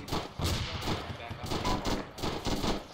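Gunfire in the Arma military video game, a rapid series of sharp shots crackling in bursts at moderate distance, mixed with faint radio chatter.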